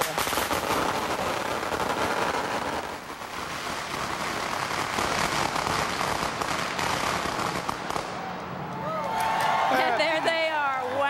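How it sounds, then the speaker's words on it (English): A long, loud string of firecrackers bursting in rapid crackling succession at the 2011 Chinese New Year Parade in San Francisco, the popping dense and continuous before easing near the end. "The festivities begin right now with the ceremonial lighting of the firecrackers."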